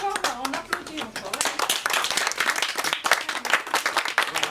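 Audience applause at a Haitian cultural performance, dense clapping from a crowd that stays steady throughout, with a few voices briefly audible over it.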